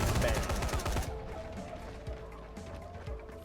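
Gunfire in the zombie video game Dying Light, a loud dense burst at the start followed by a few scattered fainter shots against a busy game background.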